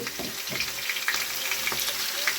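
Dried fish with eggplant and potato cooks in a pan, giving a soft crackling fry with scattered sizzling pops and stirring clatter, steady and close for a couple of seconds.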